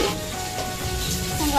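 Potatoes and bari lentil dumplings fry in hot oil with onion tempering, a dense close sizzle that runs through the whole short stretch.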